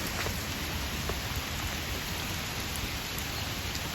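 Steady rain falls outdoors in the countryside, a dense even hiss with scattered drop ticks, continuous and close with no voices.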